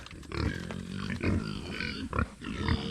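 Several little pigs on a farm in hot weather: repeated close grunts and oinks of varying pitch, rising and falling throughout, with outdoor background noise.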